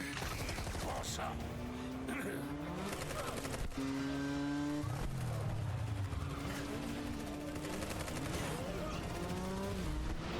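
Motorcycle chase in the Final Fantasy 7 Remake video game: engines whine and rise in pitch over bursts of gunfire and crashes, with in-game voices and music layered through a busy, continuous action mix.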